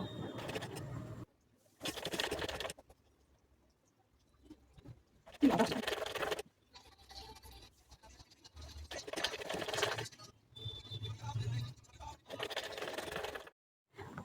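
Sewing machine stitching the sleeve seam of a kurti, running in several short bursts separated by pauses, with a brief scratchy handling noise in the middle.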